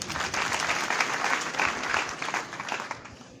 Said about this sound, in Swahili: wacha tuwapigie makofi.